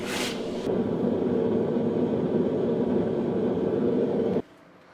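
A steady, loud hiss and rumble of a hot forged steel rounding hammer head quenching in water lasts a few seconds, then cuts off abruptly.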